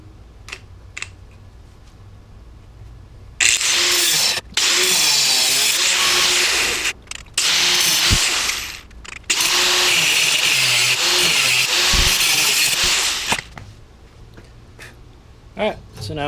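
Loud, continuous power-tool cutting of metal stock for a homemade beach sand spike rod holder, running in long sustained bursts with brief pauses between them, starting after a few seconds of quiet.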